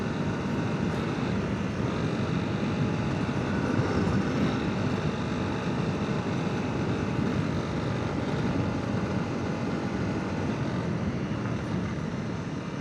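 A Honda motorcycle engine drones steadily at close range while riding off-road in third gear at about 50 on Adelaide Plains tracks in South Australia, with wind rush underneath.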